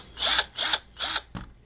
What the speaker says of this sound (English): I am going to put it in my cordless drill